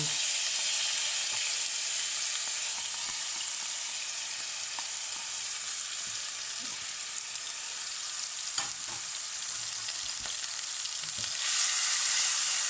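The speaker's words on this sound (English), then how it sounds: "They'll sizzle away now." Steady, bright sizzling of onion, chili and cinnamon frying in a pan with methi, constant and fairly close, with a few faint clicks and no talking.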